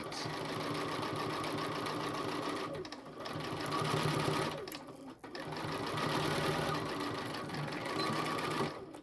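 A sewing machine stitches an oven mitt, its motor whirring in steady runs with two short pauses, close and fairly loud with a mechanical rattle.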